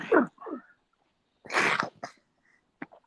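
A couple of short, sharp bursts of breath, including one forceful sneeze, with brief pauses and small mouth noises between them.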